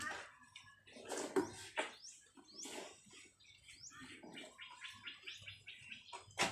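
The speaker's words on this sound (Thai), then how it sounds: "อ้าวเสียงเคี้ยวแตงอย่างอร่อยเลยนะคะ" Small pregnant pet animal chewing melon, with a string of close, quiet, wet crunching and smacking bites at an uneven rhythm.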